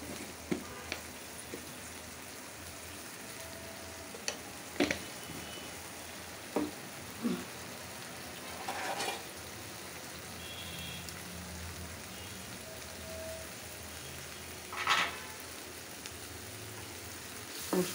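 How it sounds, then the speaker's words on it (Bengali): Spice paste with a little added water is sautéed and stirred in a pan on a stove, giving a steady low sizzle with occasional scraping and clinking of the spoon. "মশলাটা কষানো হচ্ছে এই চুলাতে।"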